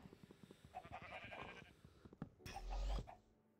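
Sheep bleating in a Minecraft oneblock survival game, several short bleats scattered over steady in-game ambience, with a louder burst of game sounds near the end.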